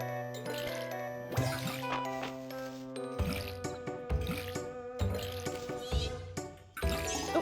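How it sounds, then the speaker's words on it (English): Crops get watered in the farming video game Fields of Mistria, with a few short splashing bursts over bright, chiming game music. "Let's water our crops first"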